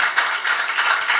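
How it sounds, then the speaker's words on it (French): An audience applauding panelists at a conference on diplomacy, with steady, dense clapping filling the hall throughout, loud and continuous without any talk over it. "Est-ce que nous pouvons applaudir une fois encore pour nos panélistes?"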